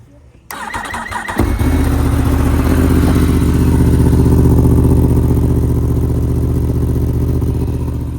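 A motorcycle engine with an Akrapovic exhaust cranks and fires up, then settles into a loud, steady idle close by, with a deep rumbling exhaust note continuing to the end.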